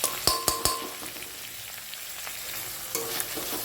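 Spices with turmeric and salt frying in a pan for a bhetki fish dish, a soft steady sizzle with a few sharp clinks of a spoon against the pan at the start and near the end.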